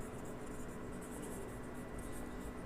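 Steady scratching of writing on a board runs continuously through a class 10 social science lesson, faint and even against a noisy background, with no pauses and no speech heard.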